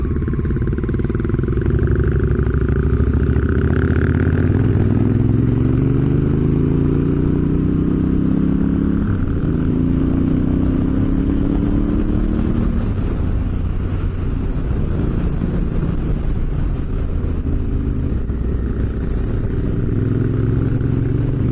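A Suzuki DRZ400 motorcycle rides along with its loud single-cylinder engine droning close to the microphone. The pitch rises and falls as the rider works through the gears, with constant wind rush over the top.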